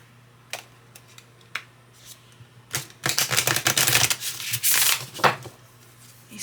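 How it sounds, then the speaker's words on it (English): A Guardian Angel oracle card deck shuffled by hand, with a few sharp card taps followed by a loud, close, riffling burst of stiff new cards in the second half. "They seem to shuffle very nicely."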